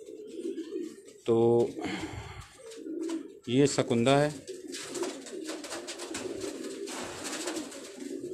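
Pigeons kept in a Karachi loft coo in low, repeated rolling calls throughout, with someone talking over them and a couple of brief louder bird calls rising above the steady murmur.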